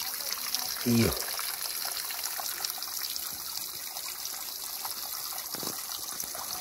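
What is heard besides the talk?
water trickling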